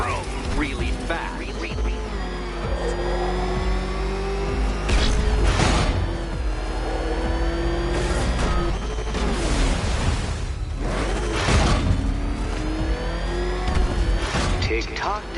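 Batmobile engine from a Batman video game revving and surging in repeated bursts, loud and close, with mechanical clatter mixed in and a voice talking over parts of it.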